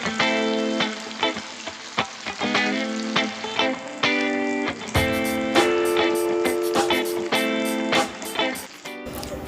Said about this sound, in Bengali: তো বন্ধুরা বাকি বড়াগুলোকেও একইভাবে ভেজে নেব।